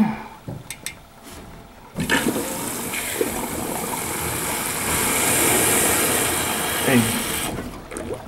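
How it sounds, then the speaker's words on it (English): Water rushing and gurgling out of an HVAC primary drain pan as the drain is flushed, a loud continuous wash swelling then cutting off, with someone talking briefly before it starts. "right at the end, you hear it gurgle out, and that flushes the drain out"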